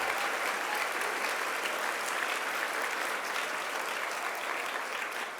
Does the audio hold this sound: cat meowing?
no